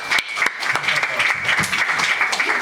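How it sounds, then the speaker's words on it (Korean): Church congregation clapping in a brisk burst, close and fairly loud, with a few sharp individual claps standing out and a voice heard briefly over the applause. "박수."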